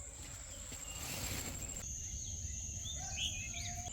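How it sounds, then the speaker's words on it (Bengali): Birds chirp and call through a quiet forest at dawn, faint and distant, with a high insect-like trill and soft scattered tweets over a low ambient hum. "শুধু পাখির কিচিরমিচির ছাড়া এখানে কোনো কিছু শুনতে পাইবেন না আপনি।"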